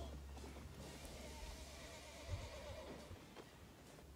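A horse whinnies amid a steady low rumble of outdoor background noise, with faint hoof sounds scattered throughout.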